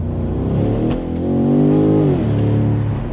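A big BMW M850i engine revs loudly and close, rising in a deep, rumbling pitch, easing off, then climbing again.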